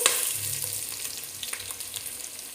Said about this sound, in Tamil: தின்னாக ஸ்லைஸ் பண்ணி இது நல்லா ஒரு கோல்டன் கலர் வர வரைக்கும் ஃப்ரை பண்ணிவிடுங்க